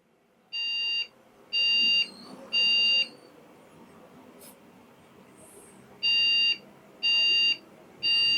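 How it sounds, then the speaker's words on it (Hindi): A PC motherboard beeping after power-on, sending out six loud, evenly spaced long electronic beeps with a pause midway, plus faint background noise. "अब बीप साउंड करना शुरू हो गया।"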